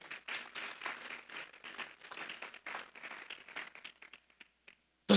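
Church congregation clapping during a sermon on the Psalms, a moderate patter of hand claps for a few seconds that thins out to scattered claps, heard at a slight distance.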